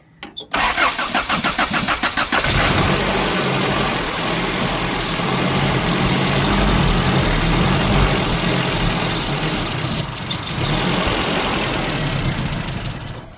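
An Isuzu Trooper 4x4 given starting fluid cranks with a quick rhythmic churn, then catches and roars loudly to life, settling into a rough, close, steady running idle.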